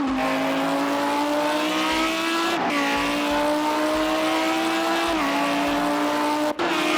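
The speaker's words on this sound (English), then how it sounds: "the amazing sound of Lamborghini Huracan GT3 around this classic circuit of Dubai" A Lamborghini Huracan GT3 engine in a PS4 racing game screams at high revs around Dubai Autodrome, with brief dips at gear shifts and steady climbing pitch between, loud and continuous.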